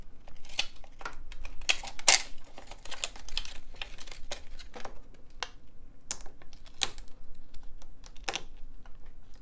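Cables being reconnected to the replacement batteries of a CyberPower 1350VA UPS, heard as close, irregular plastic clicks and taps that come in quick, scattered bursts with no talking.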